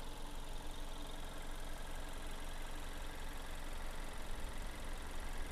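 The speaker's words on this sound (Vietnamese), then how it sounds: "cái máy nó im hầu như là chỉ nghe cái tiếng sẹt sẹt của dây cu-ro thôi chứ không có nghe một cái tiếng máy nổ luôn" A 2019 Mazda 3 automatic engine idling under the open hood, a very quiet steady hum with a faint continuous hissing from the drive belt, no talking.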